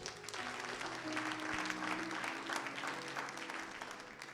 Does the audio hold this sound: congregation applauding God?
yes